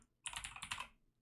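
A quick burst of typing on a computer keyboard, a dense cluster of clicking keystrokes lasting about a second, close and fairly quiet, with no talk.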